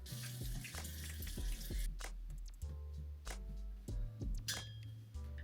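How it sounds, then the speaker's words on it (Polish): Tap water runs steadily into a bathroom sink while someone washes their face, a continuous splashing rush broken by brief clinks and shifts in the flow, close and fairly loud, with no talking. "Ja teraz myję twarz"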